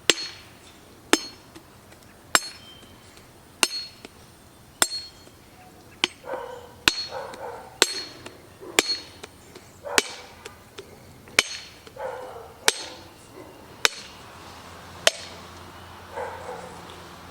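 Coconut meat is knocked free of its shell with sharp, evenly spaced knocks, about fourteen of them, some with a faint ringing after; close and steady, with no talking.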